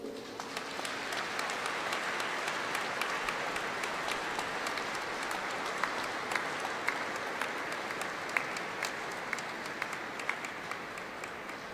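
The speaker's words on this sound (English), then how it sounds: "let's express our thanks to them by giving all these people a well-deserved round of applause" An audience at a university graduation ceremony applauds in a long, even, sustained round of clapping, moderately distant and without talk.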